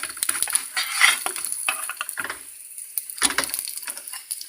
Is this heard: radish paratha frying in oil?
yes